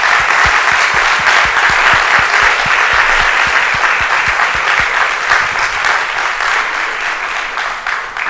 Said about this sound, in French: Donc je vous remercie de les applaudir.